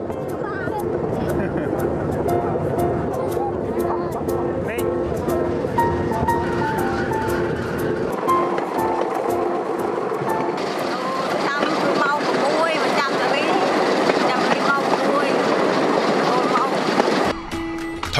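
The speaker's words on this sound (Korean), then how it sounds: "덜커덩 소리를 내며 달리는 로리는 지붕도 칸막이도 없습니다" Cambodian bamboo lorry rail cart running along the tracks in the open: a continuous clattering rumble with rattling metallic knocks and wind, carrying on under a narrator's voice and growing brighter and busier midway before cutting out near the end.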